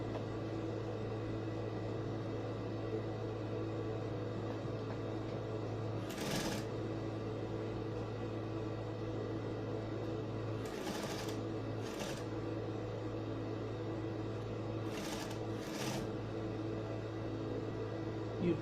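A sewing machine hums steadily while stitching pleats on a ruffled sleeve, with several short bursts of rustling or shuffling fabric handling breaking in at intervals.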